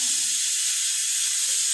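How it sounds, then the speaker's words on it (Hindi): Steam hisses steadily from a pressure cooker whistle during home cooking, a continuous high airy rush that holds at an even level throughout, with faint low rumbling underneath and no voices. "जब कुकर वाला वाला बड़ा सीटी मारला"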